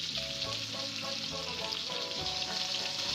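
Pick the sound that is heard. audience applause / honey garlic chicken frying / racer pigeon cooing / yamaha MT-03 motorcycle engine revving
honey garlic chicken frying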